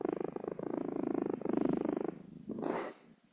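Cat purring up close on a microphone, a steady rhythmic rumble of pulsed breaths that runs continuously, then ends with a brief brighter breathy burst.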